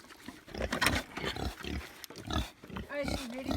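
A pig grunts repeatedly while a dog chases it around an off-grid homestead, the animal noises close and fairly loud with a person's voice speaking over them.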